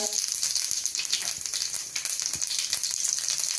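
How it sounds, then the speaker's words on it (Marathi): Mustard seeds and cumin crackling in hot oil for a tempering, a dense continuous sizzle with rapid tiny pops and rattles, close and fairly loud throughout. "मोहरी तडतडली आहे, जिरंही घालून घेऊया."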